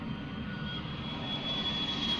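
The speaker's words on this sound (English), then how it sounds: "Oh, it's the jet." A private jet's engine in Yakuza 3 produces a steady, continuous whine and rumble, moderately loud and unbroken, with a thin high tone above the roar.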